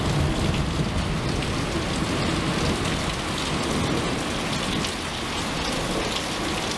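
Heavy rain pouring steadily during a storm with tornadoes nearby, a loud, dense, unbroken roar of drops close to the microphone, no voices.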